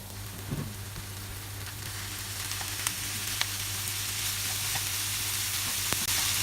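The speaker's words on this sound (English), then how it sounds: "I'm going to add 500 grams of beef, minced beef. And we are just going to get that nice and brown." Minced beef browning in a pan with softened onion, a constant close sizzle with a low steady hum and occasional soft ticks of stirring, heard without talk.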